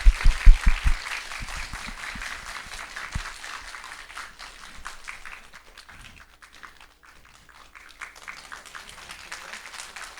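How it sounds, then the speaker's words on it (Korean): An audience applauds a film award winner at a Bechdel Day event, with dense clapping that starts strong with a few loud close claps, fades in the middle and swells again toward the end. "네, 박수 부탁드릴게요."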